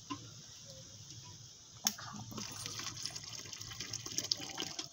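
Green coconut water is strained and poured, a faint trickle that swells into a soft, steady splashing after a sharp clink, heard quietly and without voices.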